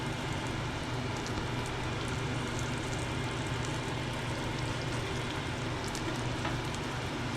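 Eggs fry in a pan of hot oil, a steady dense sizzle and crackle with no pauses, moderately loud and close.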